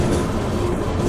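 The Sabari Express passenger train from Trivandrum to Secunderabad rumbles along the track, a loud, continuous low roar heard from inside a carriage with no distinct beats.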